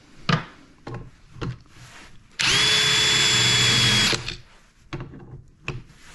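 A power drill bores a hinge cup hole into a kitchen cabinet door with a depth-stopping bit, a loud steady whine of nearly two seconds between softer clunks and handling knocks.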